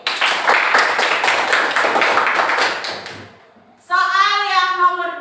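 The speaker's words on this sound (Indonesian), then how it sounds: "Tepuk tangan buat Tere." Classroom of children claps together for a student in a dense, rhythmic burst of hand claps lasting about three seconds, then drops away before a voice rises.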